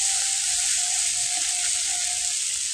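Spices and vegetables frying in a pan, a continuous bright sizzle, close and steady, with a faint sustained tone beneath it and no one speaking.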